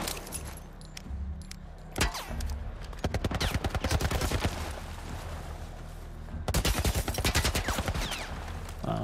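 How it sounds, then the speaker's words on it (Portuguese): Gunfire in The Last of Us Part 1 during a military tower shootout: dense bursts of rapid shots in clustered volleys, one sharp single crack near the start, and loud sustained automatic fire in the middle and at the end. "eles estão atirando em nós!"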